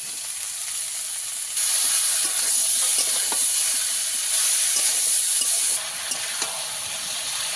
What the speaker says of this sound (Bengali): এবারে কষিয়ে নিয়েছি